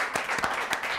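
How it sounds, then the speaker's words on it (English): A short burst of applause for a child in a spelling activity, a few quick hand claps over a steady wash of group clapping, heard alone. "Let's give a round of applause"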